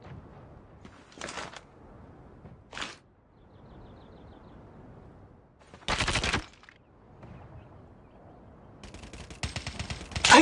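Gunfire bursts in a Search and Destroy video game match, several short loud volleys separated by quieter background game noise, the last one ending the stretch.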